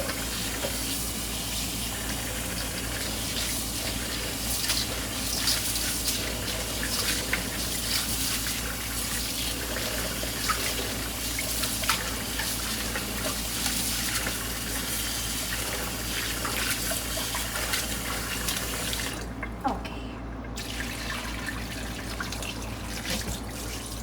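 Tap water runs steadily over raw pork being rinsed for Jamaican brown stew pork, a constant close hiss and splash with a brief break near the end and no talking.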